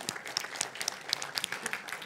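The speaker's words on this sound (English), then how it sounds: "Big applause for the first volunteer." An audience at a programming conference talk applauds a volunteer. The clapping is fairly faint and dense, and keeps up steadily for about two seconds.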